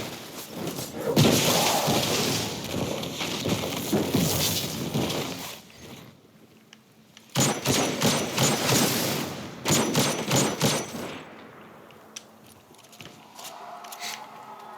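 Shotgun blasts from the video game Destiny 2, fired in close succession as a loud cluster of booming shots, then a pause and a second rapid volley of heavy thuds.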